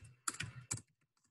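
Quiet computer keyboard typing, a few soft clustered keystrokes and short bursts, then it trails off into near silence.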